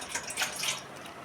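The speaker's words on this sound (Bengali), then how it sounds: "এরপরে আমি একটা জায়গা নিয়ে নিয়েছি, ওর মধ্যে এবার আমি বেশ কিছু জল অ্যাড করব।" Water poured into a container in a home kitchen, a short, close splashing and gurgling stream with bright fluctuating spatter that tapers off after about a second.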